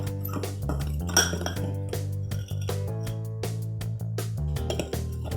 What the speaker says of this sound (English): Add your cake mix to your bowl with your water. Stir until smooth.